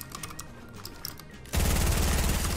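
Rapid automatic gunfire in the Fortnite video game, a dense, loud burst that kicks in partway through and continues steadily to the end, preceded by quieter rattling game noise.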